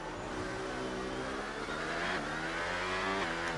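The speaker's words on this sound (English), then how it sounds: "You can hear the car just almost like the rear chattering as it's coming out of corners." A race car coming out of a corner at the Mexico round, engine loud and continuous with its rear chattering, revving steadily and close without pause.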